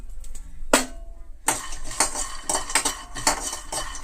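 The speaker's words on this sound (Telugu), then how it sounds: "ఈ డ్రై పాన్లోనే మనం ఏం చేద్దామంటే పల్లీలు వేసుకుందాం" Peanuts dry-roast in an empty pan, starting with a sharp clank and then a rapid, rhythmic rattle and scrape of nuts and utensil against the metal, close and fairly loud.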